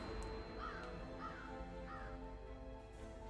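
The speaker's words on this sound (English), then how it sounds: "that's a cool little spiky bird" A spiky bird creature in the video game Lost Ark gives three faint, evenly spaced caws over a steady background hum.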